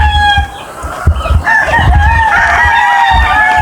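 Gamefowl roosters and pullets at a breeding farm crow and cluck in close, overlapping calls, with long harmonic crows rising over steady clucking and occasional low handling thumps.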